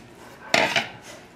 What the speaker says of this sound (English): So put the meat in the marinade.